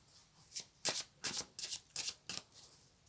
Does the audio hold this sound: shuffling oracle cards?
yes